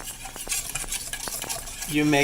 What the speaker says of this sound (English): So 1 tablespoon at a time, and you mix